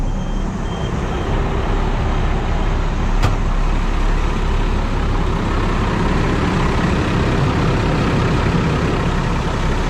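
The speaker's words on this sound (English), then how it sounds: "nice cold start to the Cummins here. A little smoky when they're cold." Cummins diesel truck engine idling just after a cold start, a loud, steady low rumble close by that holds unchanged throughout with no talk over it.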